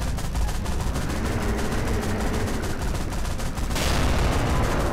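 Rapid, continuous gunfire-like bursts in Garry's Mod as a tank fires at a siren-head robot, loud and dense throughout with a heavier blast near the end.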